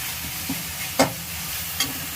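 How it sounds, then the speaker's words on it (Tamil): Curry leaves sizzle as they are sautéed in a pan for a Tamil chicken gravy, a steady loud hiss of frying with a few sharp pops and stirring clicks. "கருவேப்பிலை போட்டு வதக்கிக்கலாம்."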